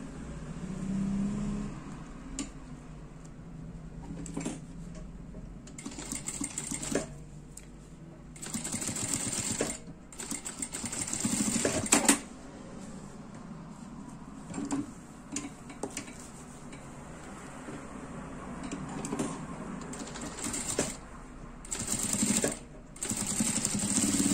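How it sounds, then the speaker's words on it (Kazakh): Sewing machine stitching the edges of a handbag together, running in short, fast whirring bursts separated by brief pauses, steady and close, with no talking. "Мына екі шерін тігіп жібереміз."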